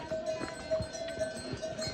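Horse hooves clip-clop steadily along a mountain pilgrimage trail on the way to Hemkunt Sahib, a soft, regular walking rhythm under a faint ringing bell and low background noise.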